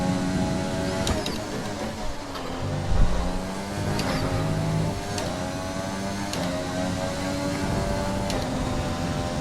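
Formula 1 race car engine in the F1 2020 racing game, running on old soft tyres, a steady, loud, high-pitched drone that shifts in pitch as the car speeds up and slows, with faint clicks and no talking.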